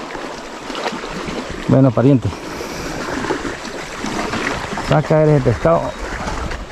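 A motorboat's engine drones beneath the slap and wash of waves on the open water, with someone speaking in short bursts over the steady rumble.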